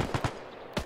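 Rapid gunfire in a WW2 Battle of Tarawa video game: two sharp, loud shots close together, a brief lull, then two more quick bursts, with no voices over them.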